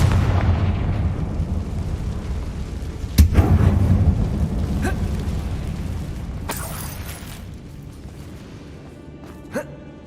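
A Confringo blasting spell goes off inside an abandoned mine in Hogwarts Legacy: one sharp burst followed by a rumbling, fading roar, with a smaller pop near the end, over a low ambient drone.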